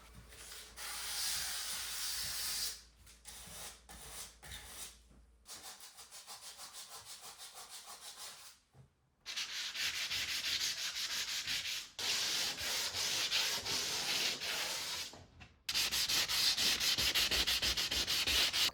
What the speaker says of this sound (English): We're gonna tackle all the sanding